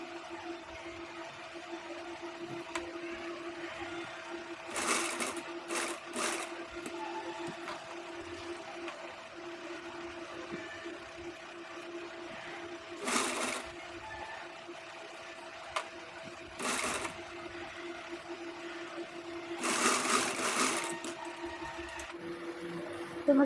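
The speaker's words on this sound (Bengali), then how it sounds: "দেখো, এবার আমি এভাবে সেলাই করে নেবো।" A sewing machine stitches a size 40 catori blouse in several short bursts of rapid mechanical whirring, each run separated by pauses filled with a steady low hum.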